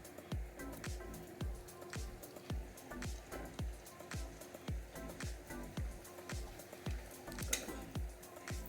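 Colorful puris fry in hot oil with a steady sizzle, overlaid by a regular series of soft rhythmic taps or splashes roughly twice per second, fairly quiet and without talk.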